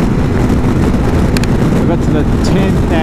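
BMW S1000 XR motorcycle engine revving hard near its upper range while riding through a valley, a constant loud drone heavily mixed with wind rush against the microphone.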